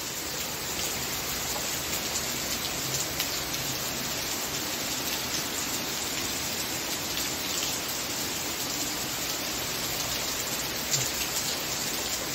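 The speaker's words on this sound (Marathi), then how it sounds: "आता पूर्ण काळोख झालेला आहे आणि जोरदार पाऊस सुरू झालेला आहे परत" Heavy rain pours steadily at dusk, a dense continuous hiss drumming on a roof slab behind a house, even and unbroken throughout with no voices.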